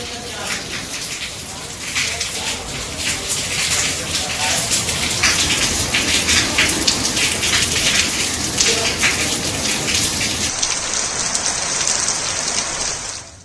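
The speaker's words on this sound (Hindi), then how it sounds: "यहाँ रात से ही रुक रुक कर बारिश हो रही है।" Heavy monsoon rain pours continuously in Bihar under dark clouds, a loud, dense hiss of drops hitting surfaces that builds through the middle and stays steady with no pauses.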